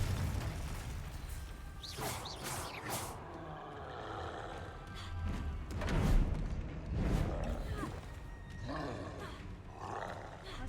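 A troll in a Harry Potter video game lets out heavy, guttural roars and grunts, with whooshing game effects and music underneath and a voice speaking at times.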